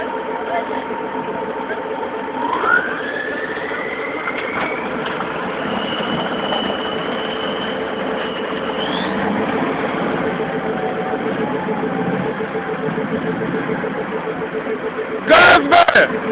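MTLB armored vehicle engine droning steadily during a river crossing, a continuous loud rumble that rises in pitch as it revs, with shouting voices over it.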